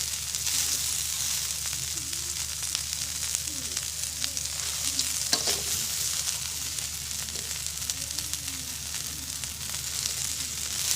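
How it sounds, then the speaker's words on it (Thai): June beetles deep-frying in hot oil give a steady, dense sizzle with fine crackling that holds at an even level throughout, with no talking. "ทอดให้กรอบนะครับผม"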